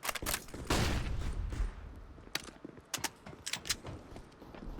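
Rapid MP9 gunfire in Counter-Strike on the Nuke map during a competitive match, sharp bursts of shots scattered across the moment, mixed with clicks and mechanical clatter of in-game action.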